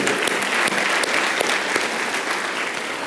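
A church congregation claps together in a sustained, dense burst of applause, loud and continuous from start to finish.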